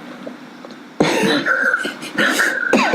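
A person coughs in a sudden fit, several harsh, close, loud bursts in quick succession, with a short gap and then more coughing toward the end.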